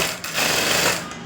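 A sewing machine runs in a short, steady burst while stitching piping onto a blouse. The whirring is close and even, with a slight dip early on, and no one speaks.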